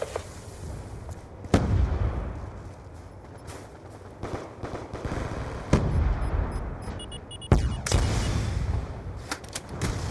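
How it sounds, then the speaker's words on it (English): Grenade blasts in Call of Duty Black Ops 2, several sharp booming bursts spread across the span, with gunfire and battle noise rumbling between them. "Throwing grenade!"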